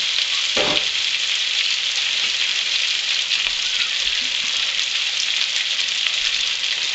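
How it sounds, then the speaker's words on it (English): Morel mushrooms frying in hot butter give a steady, loud, close sizzle that holds evenly throughout, with a brief spattering burst near the start and no voices. "get my butter nice and hot without burning it. Plop those morels in there."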